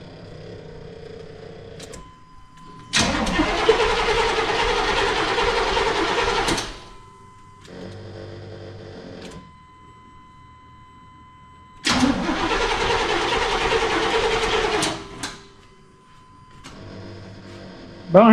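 A 1989 Chevy Suburban, parked for years, cranks hard in two long starter bursts of several seconds each, separated by quieter gaps. The engine never catches, and the sound is loud and close.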